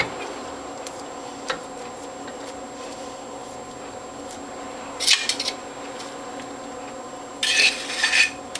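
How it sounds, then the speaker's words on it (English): Juicer feed tube and cutter being cleaned in a kitchen, with faint scrapes and clicks, then a sharp clatter midway and a brighter rattling burst near the end, no voices. "Now we'll clean the feed tube and the cutter."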